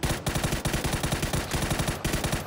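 Rifle fire in the game PUBG, a string of rapid regularly spaced shots in several bursts with brief pauses, loud and close, no voices.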